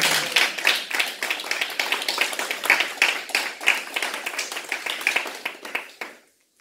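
Congregation at a Christian worship service clapping together in acclaim of Jesus, a dense, steady burst of many hands lasting several seconds before cutting off abruptly.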